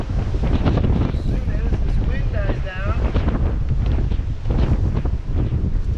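Strong wind buffets the microphone outdoors in a steady roar, and a voice is briefly heard under it.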